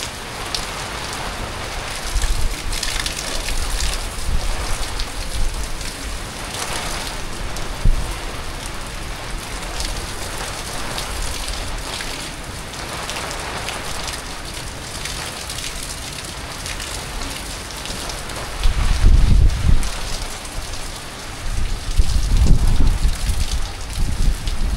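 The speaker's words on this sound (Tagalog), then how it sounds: "Ang lakas ng hangin. Parang bagyo ba," Strong wind drives a heavy rainstorm at night in Nepal, a loud continuous hiss of rain with low rumbling gusts buffeting the microphone, swelling noticeably toward the end.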